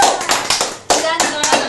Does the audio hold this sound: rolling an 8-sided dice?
no